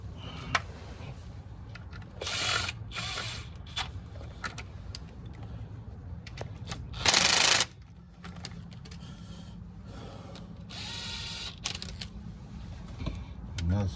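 A cheap socket ratchet works on an 1987 Oldsmobile Cutlass, sounding as scattered clicks and short metallic bursts, with one louder burst midway and quiet pauses between.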